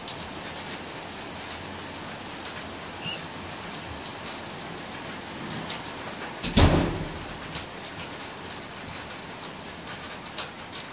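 Steady rain pours down continuously with a hissing wash, and a single loud thump cuts through midway.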